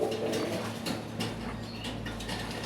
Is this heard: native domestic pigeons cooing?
yes